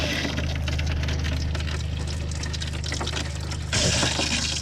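Vinegar solution flushes through a campervan's water lines into the bathroom sink as a steady, close rush of running water that swells a little louder near the end.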